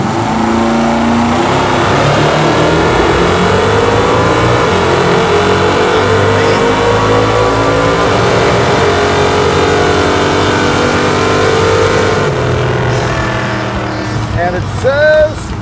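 A Hemi Super Bee drag car launches hard on nitrous, its engine roaring loud and close as the tires spin, the revs climbing steadily before the sound fades out near the end.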